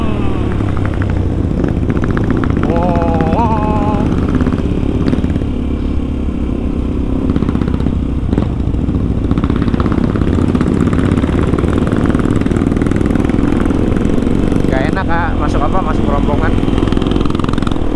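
Motorcycles at a Sunday morning riders' meetup at a Lembang rest area, engines idling in a steady loud rumble with occasional revs, with people talking over the noise throughout.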